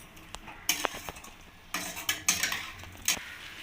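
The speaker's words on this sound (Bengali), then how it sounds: "টক দইটা দিয়েছি, এবার আমি ভালোভাবে নাড়িয়ে নেব।" A spoon scrapes and clinks against a wok while cauliflower in whisked sour yogurt is stirred, giving irregular bursts of metallic scraping with short pauses between strokes, close and fairly loud.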